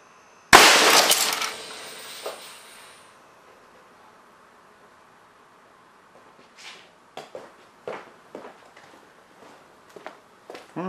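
An air cannon fires a hard-cast alloy lead slug into a flat screen monitor: one loud, sharp, shattering crack of impact that rings and decays over a couple of seconds, followed later by scattered faint clicks and crackles.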